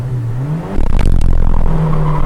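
A Ford EF hatchback idles, then launches hard from a standstill; the engine note jumps into a loud, rising rev with rough roar close by, sustained for about a second and a half.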